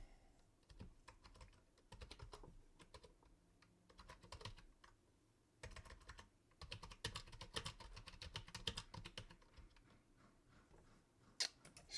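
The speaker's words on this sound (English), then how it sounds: "So hard to type on a new keyboard." Typing on a new computer keyboard, bursts of rapid close clicking keystrokes with short pauses between runs, quiet and without voices.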